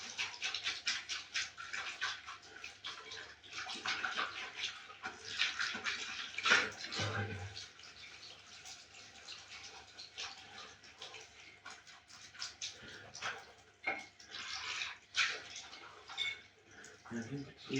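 Hot water runs steadily into a bathtub, a continuous splashing rush with small drips, while a person talks quietly over it.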